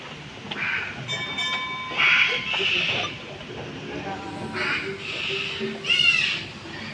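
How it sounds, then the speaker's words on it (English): A tram rolls through Jurong Bird Park in Singapore, its running noise steady and close with a few short tonal chimes and bird calls mixed in, while a voice talks over it. "Welcome back on our tram ride."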